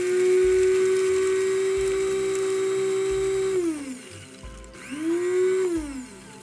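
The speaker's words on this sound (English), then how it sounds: "When I'm just doing a tray or two, I just like to do them in small batches. Just here in this little coffee grinder." A small electric coffee grinder pulverizes freeze-dried sauerkraut into powder: a loud, steady high motor whine runs for several seconds, spins down with a brief dip, then revs back up and sustains before fading out.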